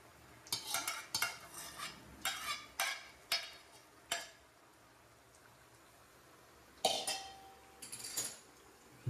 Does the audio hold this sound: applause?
no